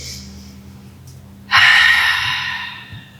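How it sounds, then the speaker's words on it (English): Deep breathing during a power yoga workout: a quiet nasal inhale followed by a loud, long exhale through the mouth that gradually fades, heard up close with no talking. "more deep belly breaths in through the nose and out through the mouth"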